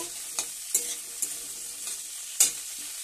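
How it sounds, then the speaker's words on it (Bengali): Yardlong beans and lentil dumplings frying in oil in a wok, a steady close sizzle broken by a few sharp clicks of a spatula against the pan. "একই কড়াইতে আমি বিম কড়াইগুলো সব তুলে দিয়েছি তেল দিয়ে। তো এটা এবার ভেজে নেব।"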